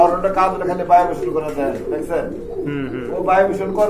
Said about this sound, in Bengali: খুবই সুন্দর একটা কবুতর আর মাশাল্লাহ এটা খুব বিগ সাইজের একটা পেয়ার